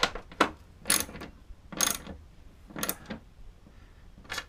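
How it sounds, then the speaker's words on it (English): A ratchet with a 10mm socket tightens a hood strut bolt on a 1995 VW Golf MK3 2.0L 8v, giving several short, close bursts of rapid clicking separated by brief pauses. "Then we'll use this 10mm to tighten it down."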